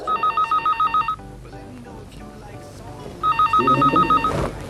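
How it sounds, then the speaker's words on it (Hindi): An old-style telephone ringing indoors with loud, repeated electronic trilling bursts, stopping for a couple of seconds and then starting again, with voices and background sounds between the rings. "फोन सुनना।"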